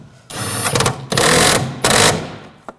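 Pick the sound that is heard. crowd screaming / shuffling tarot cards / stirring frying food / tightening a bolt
tightening a bolt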